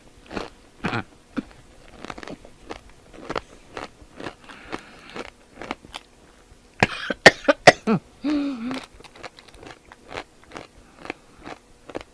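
Close-up crunching and biting on a Paqui One Chip Challenge chip, a run of sharp irregular crunches in bursts, followed by coughing and throat clearing.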